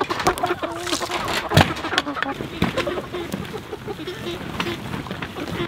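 Hens cluck and murmur in a busy flock while coops are moved along a chicken tractor, with scattered bird calls and some rustling, steady and close throughout.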